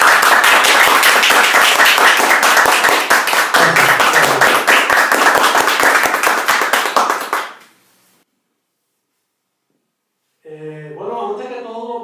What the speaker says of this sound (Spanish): vamos a pedir un fuerte aplauso para nuestro protagonista de esta noche,